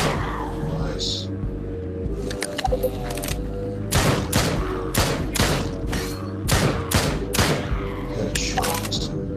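Gunfire in the VR shooter Drop Dead: Dual Strike comes in rapid bursts of sharp, loud shots with thumping impacts, clustered in rhythmic volleys over several seconds, with brief game voice lines mixed in.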